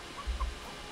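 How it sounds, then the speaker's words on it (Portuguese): Chickens in the video game Breakwaters give two short, soft clucks close together over a low game ambience, with no talking. "Olha galinhas."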